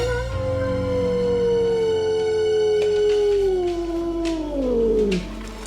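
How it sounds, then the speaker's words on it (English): An angry cat lets out a long, deep, wavering yowl, loud and close, sliding downward in pitch over several seconds before cutting off, as it threatens to attack. "So that's a really classic noise for a cat that's just going to come and hit you"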